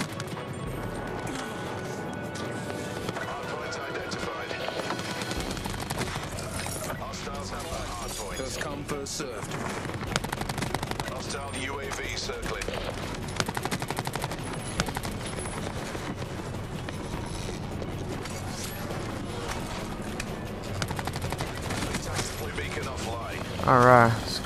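Rapid bursts of submachine gun fire in Call of Duty: Black Ops 4 multiplayer, dense and continuous over game music and effects, with a sharp louder burst near the end.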